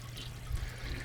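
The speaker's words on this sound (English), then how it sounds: "I hear him flushing." A toilet flushing in another room of a home, heard as a steady rush of water with a low rumble, fairly faint and alone.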